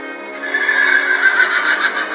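A horse neighs in one long, loud, whinnying call that wavers and holds for about two seconds, close and alone with no talking.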